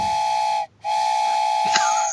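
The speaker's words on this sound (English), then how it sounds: "That was the saddest train whistle I've ever heard. It was like a child's wooden train whistle toy." A toy train whistle sounds as a loud, steady reedy tone that cuts off briefly and then resumes, with a short wavering warble near the end.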